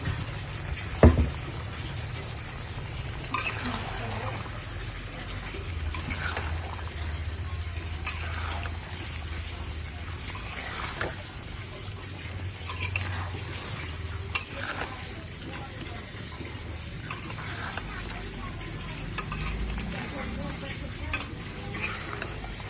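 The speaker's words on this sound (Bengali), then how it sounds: "আলাদা তরকারি রান্না করবো, আমি আর আপনি।" Curry cooking in a pan, a steady low sizzle with repeated stirring scrapes and occasional utensil clinks against the pot throughout, no voices.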